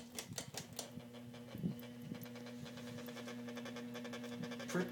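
A Hunter Lansdowne ceiling fan running on its high setting, giving a quiet, steady motor hum with a rapid ticking rattle layered over it, continuous and even throughout.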